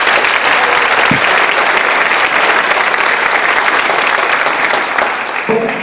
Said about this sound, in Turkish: Bir alkış oynayıp gönderebilir miyim?